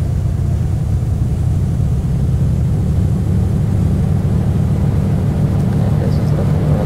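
A Carenado CT206 single-engine airplane in the X-Plane flight simulator drones steadily during landing with flaps down, a loud continuous low engine rumble with a wind-like wash and no voices.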